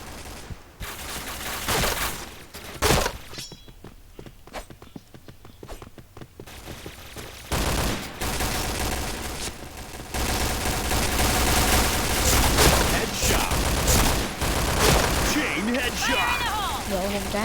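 MP7 gunfire sounds in the online shooter Point Blank, with rapid bursts and scattered shots over busy in-game noise and footsteps. People talk at times during the gunfire.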